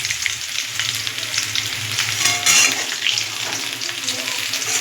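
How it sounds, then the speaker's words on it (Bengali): Potatoes fry until reddened in a pan of oil, giving a loud, steady sizzle with occasional stirring scrapes, close and continuous without any voices. "দেখুন কত কিছু লাল লাল করে ভেজে নিয়েছি আলুগুলো।"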